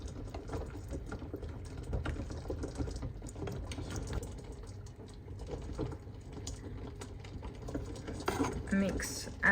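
Healthy wrap ingredients are mixed close-up in a bowl, with a utensil scraping and clinking against the dish in quick, uneven taps and rustles over a soft, continuous background.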